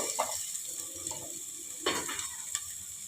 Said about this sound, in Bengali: এইবারে আমি কাজু বাদাম দিয়ে দেবো